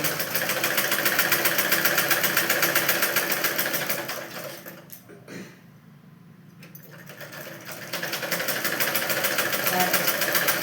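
A sewing machine stitching a blouse runs in a steady, fast mechanical whir, pauses briefly midway, then resumes at full pace, with a voice talking faintly in the background.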